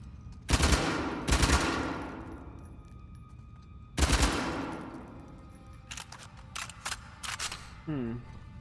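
Bursts of gunfire aimed at a wall in Uncharted: The Lost Legacy, loud close cracks in two clusters early and again midway, then a run of quicker, lighter shots near the end.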